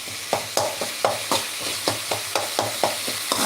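Small shallots sautéing in a pan for a mutton dish, stirred with a steady rhythm of quick spatula scrapes about three per second over a continuous sizzle, close and clear with no talking.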